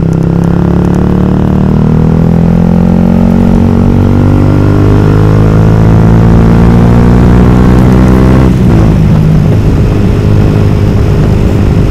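A loud Yamaha YZF-R125 125cc motorcycle engine roars with a deep, throaty aftermarket exhaust, the pitch climbing steadily as it accelerates, then a gear change.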